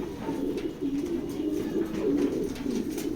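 A pigeon in a loft coos in a run of low, soft, repeated throaty calls, close by and steady, against faint background noise.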